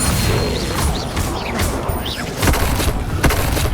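The Levioso spell being cast in Hogwarts Legacy, heard as a busy run of whooshing, thumping magical impacts over a steady game soundscape, fairly loud and continuous.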